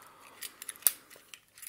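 The small scissors of a Victorinox Manager pocket knife give several crisp snips, one sharp and loud near the middle and fainter clicks around it, set against a quiet background.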